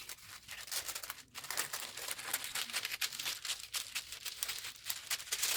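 Scissors snip and slide through sewing pattern paper in a quick, continuous series of crisp cuts, close by and moderately quiet.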